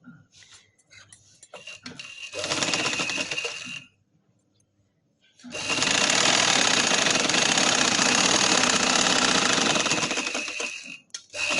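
Sewing machine stitching cloth for a salwar, two long runs of fast steady whirring and needle clatter separated by a short silent pause, close and loud.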